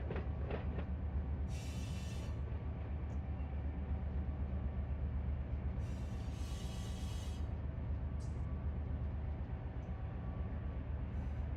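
A BNSF Dash 9 locomotive with an ES4400 ahead of it in the Run 8 train simulator game, a steady low rumble of rolling train with a few brief hissing bursts over it.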